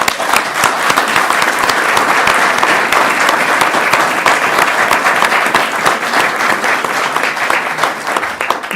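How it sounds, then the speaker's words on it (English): Loud, sustained applause for state senators at a governor's bill signing, a dense crowd of clapping hands continuing steadily for the whole stretch, with no talk over it. "So please, a round of applause for them."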